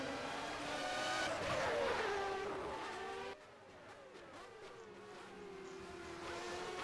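Formula One race cars from the 1990 season battle for position at Imola in rFactor. Several high-revving engines whine and shift pitch as they overtake, loud and close at first, then dropping to a fainter engine drone after a sudden cut.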